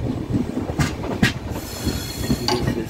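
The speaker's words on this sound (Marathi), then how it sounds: "आणि ही अंगणेवाडी हॉलिडे स्पेशल ट्रेन सावंतवाडीत आलेली आहे." The Anganewadi holiday special train pulls into Sawantwadi station, a loud, steady rumble of rolling wagons with rhythmic wheel clatter and a few bright squeals of wheels on rail, heard close with no voices.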